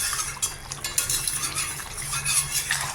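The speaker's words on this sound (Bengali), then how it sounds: "মাছগুলো একটু মিশিয়ে দিচ্ছি সবজির সাথে" Fried fish folded into vegetables in a pan, a spoon scraping and clinking against the metal in a continuous stirring motion under a soft bubbling sizzle.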